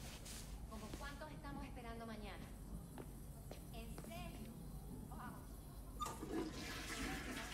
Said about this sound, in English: You can flush the toilet.